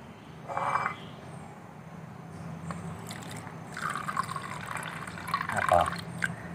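Water is poured onto a face mask, a faint trickling and splashing in short bursts over a quiet background, close by.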